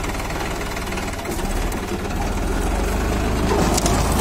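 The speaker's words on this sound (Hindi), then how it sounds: "अभी आप देखिए रोटावेटर कितना स्मूथ और आरपीएम कितना ज़्यादा बना रहा है" Tractor driving a rotavator in 3rd gear, converted from 1000 rpm to 540 rpm, runs at high rpm with a steady, loud engine drone and rapid knocking throb that continues evenly throughout.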